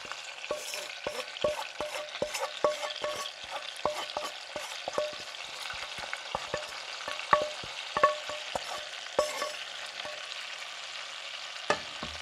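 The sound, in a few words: shallots frying in foie gras fat with capon escalope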